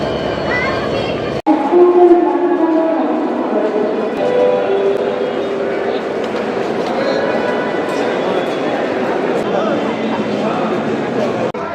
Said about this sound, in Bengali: এই যে এটা হচ্ছে আমাদের ট্রেন পদ্মা এক্সপ্রেস